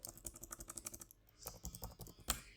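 Rapid typing on a computer keyboard, close and clear, with irregular bursts of key clicks and a brief pause midway before a sharper final keystroke.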